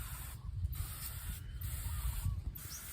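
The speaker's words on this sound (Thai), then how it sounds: "การฉีดจะต้องแหวกใบนะครับเพราะเขาจะอยู่ข้างใต้ใต้นะครับ" A sprayer mists neem oil onto the undersides of plant leaves in three short hissing bursts with brief pauses between them, loud and close against low background rumble.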